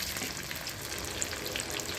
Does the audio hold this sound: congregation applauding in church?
no